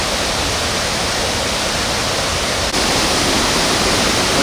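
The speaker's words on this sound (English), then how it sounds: "here we are at the base of Little B Waterfall" Waterfall roaring steadily at the base of Little B Waterfall on the Bolaven Plateau, a dense, loud, unbroken rush of falling water.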